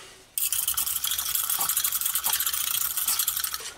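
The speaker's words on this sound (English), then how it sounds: "And then I go in with a whisk," A whisk beats mashed potatoes with milk in a bowl, a loud, continuous wet scraping and rattling against the sides that starts abruptly and keeps a fast, steady rhythm.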